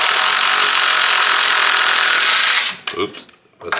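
Power tool run continuously for about two and a half seconds as a loud, rough buzzing whir while tightening a nut on a Polaris RMK SKS snowmobile ski, then cutting off into brief clunks and a short spoken remark.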